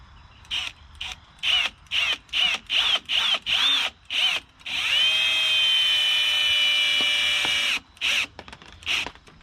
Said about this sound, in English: So now I'm going to go ahead and run a screw in